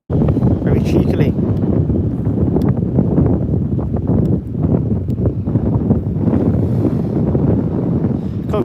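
Strong, gusting wind at Birmingham Airport buffets the microphone in a continuous loud roar with rumbling low-end bursts, alongside faint voices.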